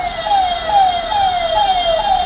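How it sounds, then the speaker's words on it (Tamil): An ambulance siren wails, repeating its rising-falling cycle about every half second, steady and moderately loud over a constant background hiss of heavy rain in Bangalore. "மழையிலையும் ஆம்புலன்ஸ் போயிட்டுருக்கு"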